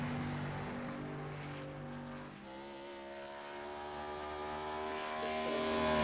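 A race car in a sim racing game pulls out of pit lane at Charlotte Motor Speedway, its engine a steady droning whine that rises slowly in pitch and loudness as it accelerates, with no talk.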